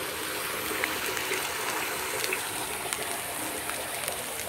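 Waterfall pouring water in a steady, unbroken broadband rush that holds at an even, moderate level throughout with no clear voices.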